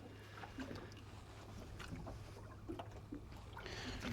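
A boat motor drones low and steady on choppy, whitecapped water during a windy evening fishing drag, with wind buffeting the microphone and scattered knocks and splashes over the continuous hum.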